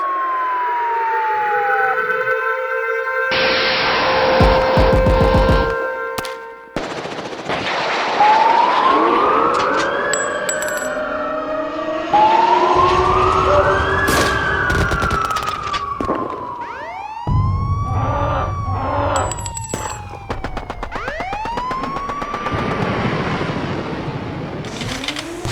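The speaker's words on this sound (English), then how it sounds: "big city sirens." A series of wailing and yelping big-city emergency sirens, loud and close, overlapping and shifting in pitch with no talk.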